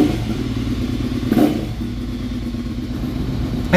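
A Ducati Monster 796 fitted with loud aftermarket mufflers runs with a steady, deep, throaty rumble close by, with a slight blip partway through.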